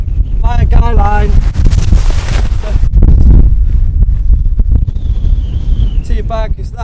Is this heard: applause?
no